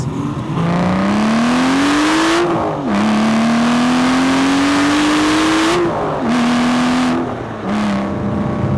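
A 2012 Aston Martin V12 Vantage engine revs hard through several gears, rising pitch between brief shift dips, loud and close with no voices.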